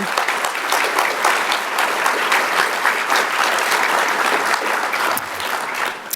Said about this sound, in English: So let's give them a round of applause as we recognize them on the screen.